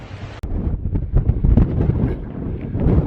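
Blustery wind buffets the microphone on a mountain road over the hills near Agua Amarga in Spain, a loud, continuous low roar with gusting swells and one sharp knock early on.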